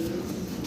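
Maltese pigeon, long giraffe-like neck, cooing close up in a low, steady murmur that carries without a break through the whole moment, no voices over it.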